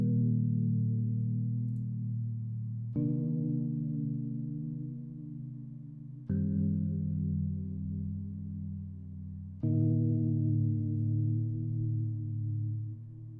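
A lo-fi chord progression soaked in reverb and EQ effects plays as four long sustained chords, each starting with a soft attack and ringing out warmly and quietly.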